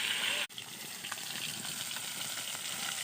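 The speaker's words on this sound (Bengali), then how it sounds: "তো আমি এখন মাছ ভাজছি কাঠের উনুনে" Rohu fish fries in oil over a wood-fired stove, a steady close hiss of sizzling that holds evenly after a brief dropout near the start.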